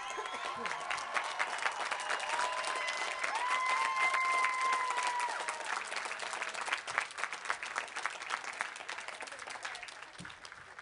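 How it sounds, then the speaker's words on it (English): Graduates at the 2013 De Anza College commencement applaud their families and friends, a sustained dense wash of clapping from a large crowd that swells in the middle and thins toward the end, with faint voices and tonal sounds mixed in. "Graduates, would you please rise and applaud your family and friends?"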